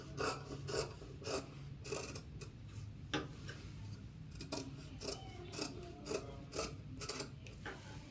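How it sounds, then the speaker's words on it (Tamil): Scissors cut through fabric while a crop top is being made, giving steady, close rasping snips in a regular rhythm with no voices. "இப்போ இதை நம்ம கட் பண்ணி எடுத்துடலாம்."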